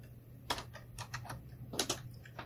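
Keys clack on a computer keyboard as a code comment is typed into an R script, a short uneven burst of close, crisp taps.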